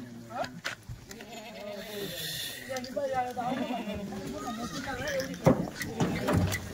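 Kathiawadi goats at a live sale bleat repeatedly nearby, several overlapping calls rising and falling among farmyard bustle while people talk in the background.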